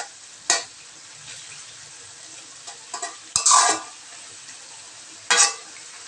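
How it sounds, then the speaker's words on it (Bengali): Snakehead fish and potato pieces sauté in a pan, a quiet low sizzle broken by three short bursts of stirring and spattering spread across the stretch. "মাছ আর আলুটা একটু কষিয়ে নেব"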